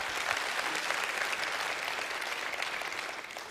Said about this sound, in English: That's worth clapping.